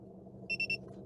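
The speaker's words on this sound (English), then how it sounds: "until it beeps 3 times like that" A car head-up display's buzzer beeps three times in quick succession, short bright electronic tones over a low steady hum.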